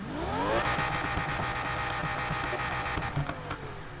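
A high-pitched V10 engine in the video game Need for Speed Heat revs up and holds a loud, sustained whine, then the tone slides down as it eases off.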